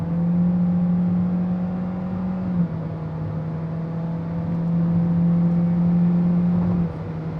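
A Toyota Yaris Ativ 1.2-liter sedan cruises at highway speed, its engine holding a steady drone with one brief pitch drop, beneath a constant wash of road and wind noise, heard from inside the cabin with no talking.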